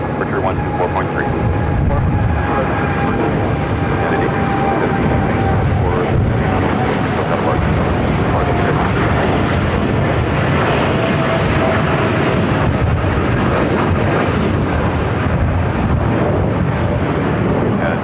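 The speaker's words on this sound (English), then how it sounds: "Also have that United Dreamliner taken off here on the south side." A United Boeing Dreamliner takes off at Los Angeles airport, a loud sustained jet roar with a faint engine whine, buffeted by wind noise, as a voice talks over it.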